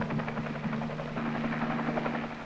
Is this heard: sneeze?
no